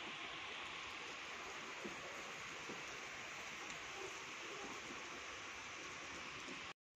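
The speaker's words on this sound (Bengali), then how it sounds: "এখন বৃষ্টি ভালোই পড়ছে।" Rain falls steadily outdoors in a continuous, even hiss that stays moderately faint and unbroken, cutting out abruptly at the very end.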